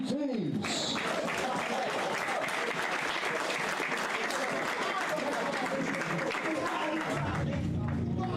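Loud, sustained crowd applause welcoming two teams at a school cup final at Hilton College's Crusaders Easter Tournament, dense clapping throughout with a brief announcer's voice at the start and a low rumble near the end.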